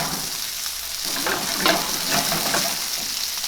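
Asparagus frying in a pan, a steady crackling sizzle with soft stirring scrapes rising and falling, close and continuous, no voices.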